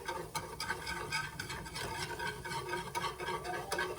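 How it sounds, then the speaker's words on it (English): A whisk works flour roux in a pan over low heat, making a fast, continuous scraping and swishing rhythm of strokes, fairly quiet and close, with no voice. "you are going to whisk like your life depends on it"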